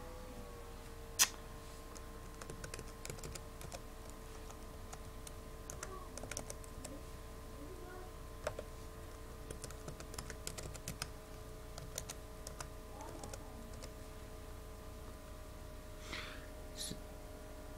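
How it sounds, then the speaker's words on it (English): Password being typed on a computer keyboard, soft scattered key clicks ticking in an uneven rhythm over a quiet room, faint and close with no talk. "you type in your old password, and you type in your new password"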